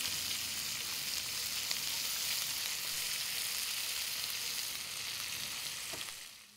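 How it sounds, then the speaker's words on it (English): Chopped red onion fries in bacon fat, a dense, even sizzle close by that fades slightly toward the end. "When the onion's cooking in bacon fat, you know that's gonna be good."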